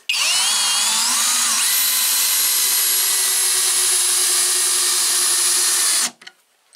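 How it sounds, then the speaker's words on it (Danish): A Skil 3071 cordless drill drives long screws into wood with a loud, steady high whine for about six seconds, the motor pitch rising briefly before it stops abruptly, leaving a few faint clicks. "nu skal jeg passe på med ikke at skrue for langt det her, fordi så kører jeg ned i bordet"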